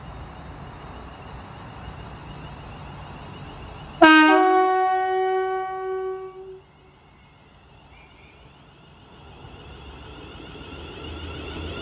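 At Milton Keynes Central on the West Coast Main Line, a London Northwestern Railway train departing toward London Euston sounds a sudden loud, close horn blast over quiet station ambience, followed by a couple of seconds of rolling rumble that then drops away.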